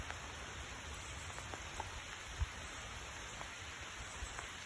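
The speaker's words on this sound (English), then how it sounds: "It's pouring down rain and it is cold" Heavy, cold rain pours down outdoors on a lake cove during a fishing trip, making a steady, even hiss of drops on water and surfaces, fairly faint, with a few slightly louder splats and no voices.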